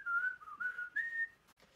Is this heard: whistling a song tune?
yes